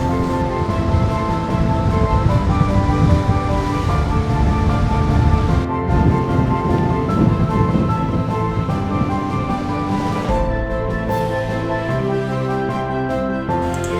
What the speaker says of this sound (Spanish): tenemos que tener mucho cuidado con el oleaje, ya que hace mucho viento y es muy fuerte la mar.